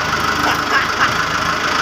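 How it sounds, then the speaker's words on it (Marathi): A tractor engine runs steadily as the tractor sets off loaded with soybeans for sale, giving a close, continuous mechanical rumble that holds at an even level throughout. "बाई आपला ट्रॅक्टर निघलेला आहे"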